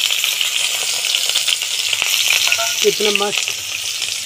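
Onion frying in a pan for a hill-style home meal, giving a loud, continuous sizzle, while a voice briefly speaks over it.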